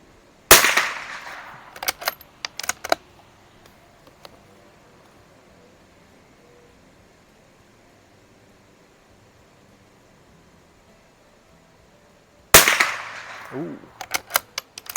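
Shots from a CZ 452 FS rifle fired at targets 50 yards away outdoors, a loud crack at the start and another near the end, each followed by short echoing rattles, with quiet wind between.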